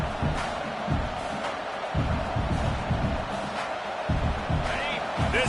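Stadium crowd at an American football game roars and murmurs steadily in the background while a commentator talks over it.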